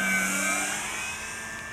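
Radio-controlled model plane flying at a club field, a steady whining engine drone that holds fairly loud throughout and eases off slightly toward the end.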